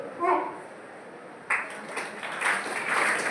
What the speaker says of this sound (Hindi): इस अविस्मरणीय प्रस्तुति के लिए जोरदार तालियां